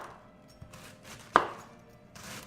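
A knife cuts through organic cabbage on a board, giving a few soft chops and one sharper, louder cut in the middle, close and quiet, with no talking.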